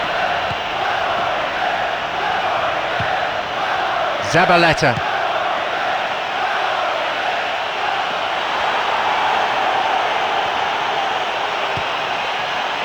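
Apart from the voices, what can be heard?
football stadium crowd at England vs Argentina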